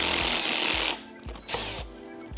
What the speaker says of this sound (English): we are going to go for drilling this one out